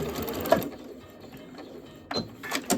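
Sewing machine stitching binding onto a fabric table runner, with a short burst of running stitches near the start, a quiet pause, then another brief run of stitching at the end.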